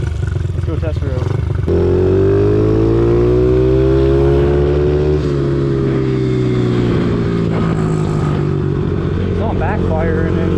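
A big-bore Honda CRF50 motorcycle on jet fuel pulls away and rides, its engine rising and falling through the revs close by, with someone speaking over it at the start.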